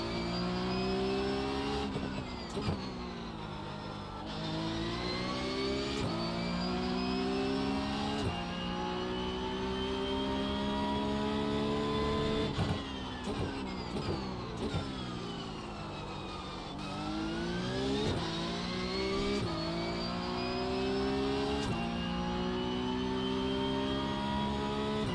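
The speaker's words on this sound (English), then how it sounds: "Dude, that car sounds ridiculously good." The HVA Evo race car's engine revs hard in a racing video game, climbing in pitch through repeated gear shifts with sharp drops between them, loud and continuous throughout.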